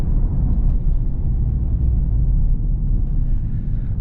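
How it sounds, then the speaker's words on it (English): Low, loud engine rumble from a sports car with a manual gearbox heard from inside during a test drive, a steady close drone through a quick downshift. "Quick little downshift."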